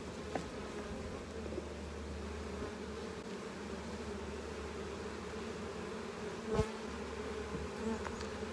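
A honeybee colony buzzes during a hive inspection, a dense, even drone held close and constant throughout, with a brief knock or thump partway through and no talking.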